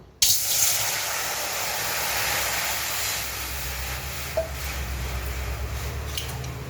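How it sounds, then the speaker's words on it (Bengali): Water poured into a hot wok while steaming egg, a sudden loud hiss of steam that starts abruptly and holds steady with a broad spray-like rush, fading slightly toward the end. "এবারে কড়াইতে জল দিয়ে দেব"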